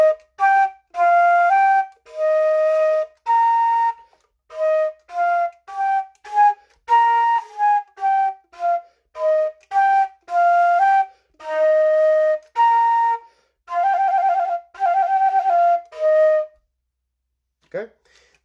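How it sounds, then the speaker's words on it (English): Flutes play their featured section of a beginning band piece, a series of clear, bright sustained notes and short detached phrases with brief gaps, close and fairly loud, no talking. "flutes, you play your part."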